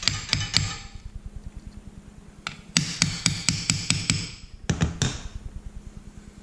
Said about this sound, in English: come in with a little hammer.